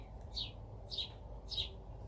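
Birds chirp outside, three short, bright tweets evenly spaced about half a second apart over a low steady background hum, moderately faint and with no talking.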